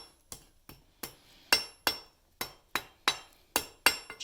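A blacksmith strikes hot steel stock on an anvil about a dozen times in a steady rhythm. Each blow is a sharp, ringing clink, some louder than others, with no talking.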